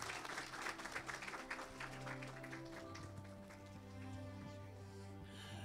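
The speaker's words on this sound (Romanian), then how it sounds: "Haideți să aplaudăm din nou." Wedding guests applaud at a ceremony in Newcastle, a steady patter of clapping over a sustained musical background, with some voices mixed in.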